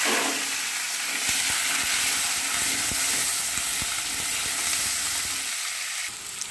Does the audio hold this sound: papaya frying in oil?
yes